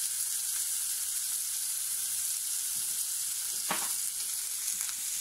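Beef or pork cutlet meat sautéing with seasoning and bell peppers in a pan, a steady hissing sizzle throughout with a brief stir or scrape partway through, no talking.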